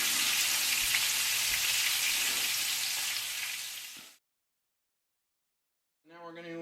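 Meat for kebabs browns in a hot pan with a loud, steady, close sizzle and crackle. After about four seconds it cuts to silence, and a voice briefly begins.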